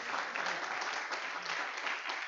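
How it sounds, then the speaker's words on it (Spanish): A church congregation applauds steadily, a dense wash of clapping heard from a little distance, fairly quiet and continuous throughout. "Dele un aplauso a Jesucristo."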